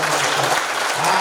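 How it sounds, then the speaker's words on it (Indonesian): Congregation applause at a Christian revival worship service held at a regional police headquarters, a dense steady clapping from a crowd, loud and close, filling the short moment without talk. "Berikan tepuk tangan buat Tuhan."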